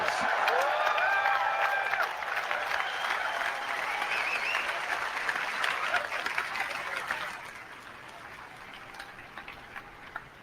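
Audience applause during a Steve Jobs keynote launching the iPhone: a dense wash of many hands clapping, loud at first and slowly thinning out over about ten seconds.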